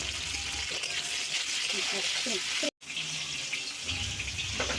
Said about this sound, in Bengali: তো ওই গরম তেলে আমি দিয়ে দিব ঢেঁড়স।